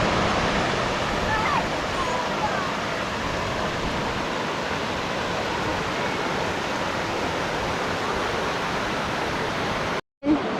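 Water rushes steadily down the Denny Creek natural rock water slide, a loud, constant roar close by that continues unbroken before a brief cut near the end.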